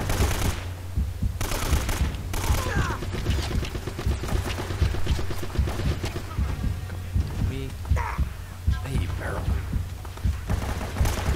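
Video game gunfire in Uncharted: Drake's Fortune, with rapid bursts of automatic shots and scattered single cracks running throughout, dense and loud over game music and effects.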